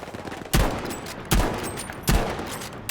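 Three heavy gunshots ring out in Battlefield V, evenly spaced under a second apart, each loud and close with a short echoing tail over a faint, busy battlefield background.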